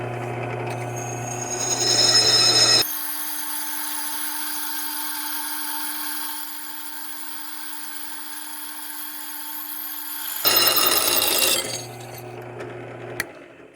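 A drill bores into a Volkswagen GTI rear brake disc lubricated with thread-cutting oil, a sharp high whine and grinding scrape that runs steadily for several seconds, bracketed by rougher, rattling bursts before and after.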